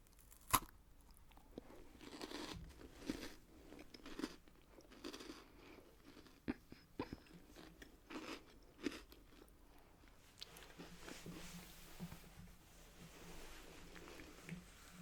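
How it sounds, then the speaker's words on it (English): A chocolate bar from the USA bitten and chewed close to the microphone, with a sharp snap at the start followed by soft, irregular crunching and wet chewing sounds that taper off toward the end. "Let me just have another bite."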